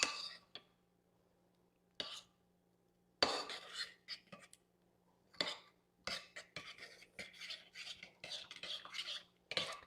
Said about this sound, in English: Now I'm going to mix it up